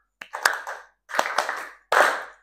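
A classroom of children claps in short bursts at a teacher's prompt, three separate loud flurries of hand claps, close and distinct, each lasting under half a second with brief silences between.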